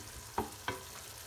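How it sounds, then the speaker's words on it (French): Two soft scraping strokes as harira soup ingredients, including tomatoes, are stirred together in a pot, quiet and close with a faint background hum. "Je vais mélanger un petit peu ensemble."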